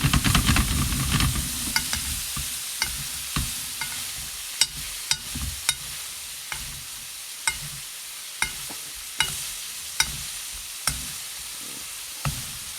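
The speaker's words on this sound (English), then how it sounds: "Nice cubes of butter in there. Really let that fry." Cubes of butter frying with a New York strip steak in a pan, a constant crackling sizzle punctuated by a dozen or so sharp spoon-on-pan taps and clicks as the butter is stirred and spooned, no voices.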